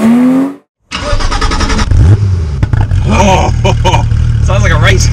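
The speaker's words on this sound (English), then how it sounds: "Oh, sounds like a race car" A Porsche 911 GT3 engine revs loud and close after a brief silent cut, a rasping, race-car-like roar that rises and falls in bursts while people talk over it.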